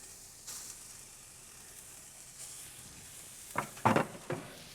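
Salmon and scallop kabobs sizzle faintly on a grill with a soft, steady hiss, then a few sharp, close clatters come near the end.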